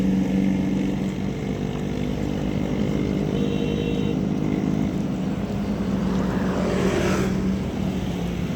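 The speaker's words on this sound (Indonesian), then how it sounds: "Maaf kalau berisik karena pas lagi di pinggir jalan utama." Steady motor traffic rumbles past at the edge of a main road near a beach at sunset, a continuous loud drone of passing engines with one vehicle sweeping by late on and no talk.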